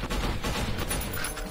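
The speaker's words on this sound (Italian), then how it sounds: "Oh, mi sparano da dietro." A rapid burst of gunfire in F.E.A.R. Perseus Mandate, dense overlapping shots rattling loudly and continuously for a moment.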